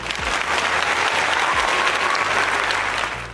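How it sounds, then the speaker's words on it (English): A studio audience bursts into sustained applause, steady dense clapping filling the whole moment loud and close, with no speech over it. "All right, so give a round of applause."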